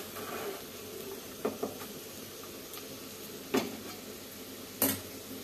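Curry frying in a pan gives a quiet, steady sizzle, broken by a few sharp clinks and scrapes of a spoon stirring against the metal.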